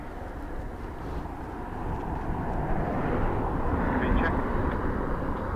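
FedEx aircraft taxiing on a wet surface at Dublin Airport, a low, fairly faint engine rumble that slowly swells, with a brief spoken word over it.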